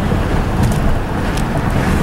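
Strong wind buffets the microphone in a constant, roaring rush with low rumbling gusts.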